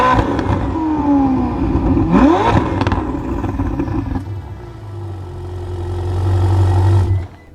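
A Ferrari 488's engine revs up and down in sharp bursts through its exhaust, then settles into a deep, rumbling idle that swells louder before cutting off.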